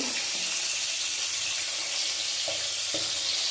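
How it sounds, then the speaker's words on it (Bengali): Pomfret fish frying in a pan gives a steady, close crackling hiss throughout, with a few brief clinks partway through. "দেখো ভাজা হচ্ছে।"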